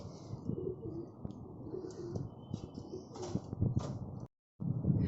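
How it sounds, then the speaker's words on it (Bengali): Pigeons in a rooftop cage give soft, low cooing calls with a few chirps, mixed with gusty wind from a cyclonic storm at night, fairly close and steady before a brief dropout. "এখানে অনেক পায়রা আছে"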